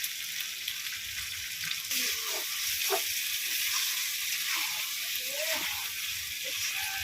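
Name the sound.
ground garam masala paste (cinnamon, cardamom, clove) sizzling in pot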